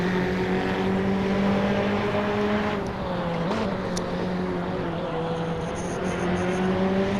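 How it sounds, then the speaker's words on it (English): Race cars in a racing video game holding a steady, loud engine drone as they run down a short straightaway, with a gear or pitch change midway and continuous motor noise throughout. "So at no point around this track will a car reach 150."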